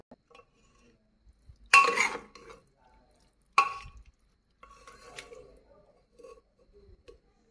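A pressure cooker lid is worked open after cooling, with metallic clatters and scrapes in two louder bursts followed by softer clinks and handling noises, close by with no talking.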